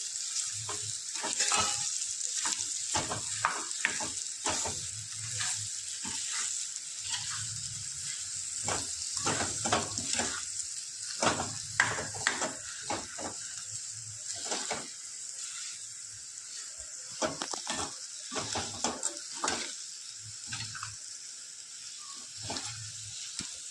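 Steady sizzling of potatoes frying in a pan with repeated scraping strokes as they are stirred, close and moderately loud throughout.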